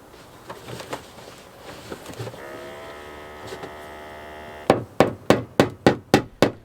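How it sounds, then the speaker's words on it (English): A regular tape-covered Craftsman hammer taps a dent in a Subaru fender: a few faint knocks over a low hum, then seven loud, evenly spaced metallic strikes close by. "This is not a polished hammer, so this is just a regular craftsman hammer."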